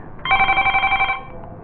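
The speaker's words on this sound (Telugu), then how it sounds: "హైదరాబాద్లో ఒక ఫోన్ కాల్ తీసుకుంటామండి" A telephone rings for a call-in on a televised sports interview show: one loud, clear ring burst lasting about a second, with quiet room tone before and after.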